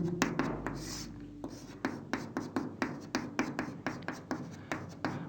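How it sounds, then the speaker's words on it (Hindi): Marker or pen writing a physics formula on a board during a Hindi-language class on electric fields, heard as a quick run of short, close scratchy strokes with brief pauses between them. "तब तक मैं ये फॉर्मूला लिख लेता हूं"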